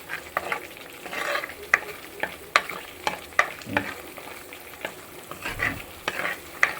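Curry masala for goat liver curry being stirred in a pan, with repeated sharp scraping and clinking strokes of the spoon over a steady soft frying sizzle, close and fairly loud.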